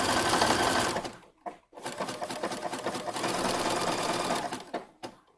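A sewing machine stitches up the V neckline of a gala gown in loud, steady runs of rapid needle chatter, with two short pauses as the fabric is turned, then a final brief burst.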